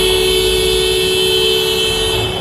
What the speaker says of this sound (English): He just got honked at.